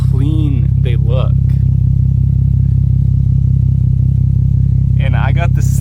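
A Nissan 350Z with a Z1 Motorsports M-Spec Y-pipe-back dual exhaust idles with a steady, deep, low rumble throughout, heard close up while someone talks over it at the start and end.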